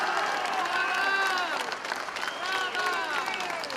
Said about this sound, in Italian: Pioggia di applausi quando la segretaria del PD affronta il tema della sanità